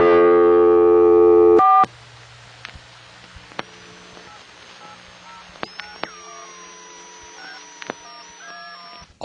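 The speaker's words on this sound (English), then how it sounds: "The touch tones you heard in the background were other customers." A loud steady vintage telephone line tone cuts off after a 4 is dialed, then faint scattered touch-tone beeps from other customers and thin electronic tones sound over a quiet line.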